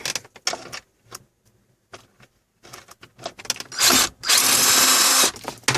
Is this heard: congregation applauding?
no